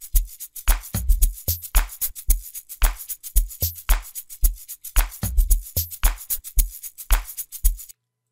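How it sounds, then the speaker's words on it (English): Amapiano drum pattern programmed in FL Studio, with punchy low kicks and log-drum hits under crisp shaker and percussion ticks in a steady syncopated groove, loud and close with no voices. "So yeah, I start off with the drums."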